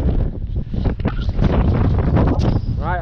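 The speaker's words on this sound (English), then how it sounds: "the wind's picking up now" Wind gusts across a mountain path on Snowdon's Pyg Track in Snowdonia, a steady, loud broadband rush that buffets close to the microphone throughout.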